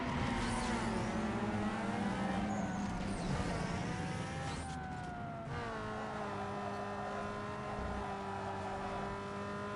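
Race car engine in NFS: Underground 2 revving loudly and steadily throughout, the pitch climbing and shifting between gears, alone with no talk.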